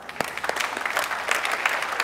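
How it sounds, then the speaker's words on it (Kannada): Studio audience on a TV game show breaking into loud, dense applause, many hands clapping close together in a steady burst with no talking. "ದಿಗಿಗ್ ಜೋರ್ ಚಪ್ಪಾಳೆ."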